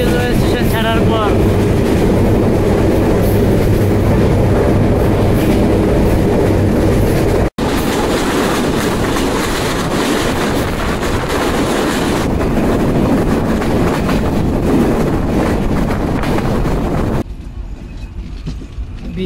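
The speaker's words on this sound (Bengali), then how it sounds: "বিকেল 3:50 আন্তনগর কপোতাক্ষ এক্সপ্রেস ছেড়ে গেল ঈশ্বরদী জংশন রেলওয়ে স্টেশন।" A Kapotaksha intercity express train runs steadily just after departing Ishwardi Junction, its continuous loud rumble and rhythmic wheel clatter filling the cabin, with a brief dropout midway and a quieter stretch near the end.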